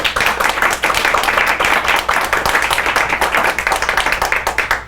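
Audience applause for author Dr. Rodolfo Acuna, a dense, steady wash of many hands clapping close by for the full five seconds, loud and unbroken, with no talk over it.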